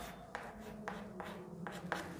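Chalk or marker tapping and scraping on a board during a physics lesson, five short strokes in an uneven rhythm, close and quiet over a low room hum.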